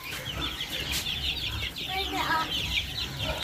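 Chickens cluck and squawk steadily close by as they are moved and caught. Soft background noise runs underneath, with faint voices in the background.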